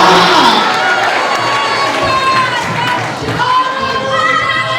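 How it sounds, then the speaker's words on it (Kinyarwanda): A church congregation cheers and claps in a loud, continuous burst of crowd noise, with raised voices mixed into the clapping throughout. "Komera Yesu amashyi menshi"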